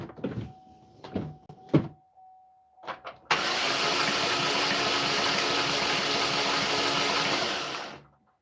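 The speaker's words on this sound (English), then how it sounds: "So I'm gonna swing the engine right now." 2012 Chevy Equinox 2.4 engine during a compression test: a few clicks and short knocks, then the starter cranks it in one long, even, whirring spell of about five seconds before stopping, close up with no talk.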